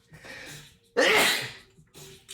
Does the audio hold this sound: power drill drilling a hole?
no